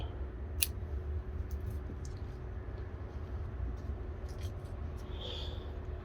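Pruning shears snip a dead stub off a bonsai tree branch: a single short, crisp cut that stands out once against a quiet, low background rumble.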